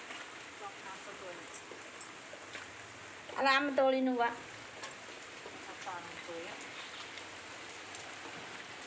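Steady heavy rain hisses continuously on a wet day in Bhubaneswar, with a person speaking briefly over it in the middle before the downpour carries on alone.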